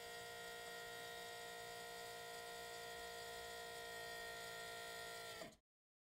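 A steady mechanical hum from a quietly running LEED Brakes Bandit Series brake vacuum pump drones on evenly without vibration, then cuts off abruptly near the end.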